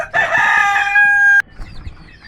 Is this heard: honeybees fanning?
no